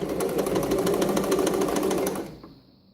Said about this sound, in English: this stitch is just a basting stitch, so it's going to be the longest stitch on my sewing machine